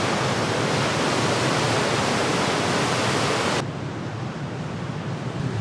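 Upper Yosemite Falls roars steadily from the top outlook during record snowmelt, a loud, dense wall of rushing water that continues unbroken throughout, easing slightly in level near the end.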